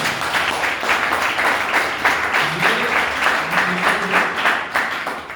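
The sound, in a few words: audience applause for Mrs. Smriti Irani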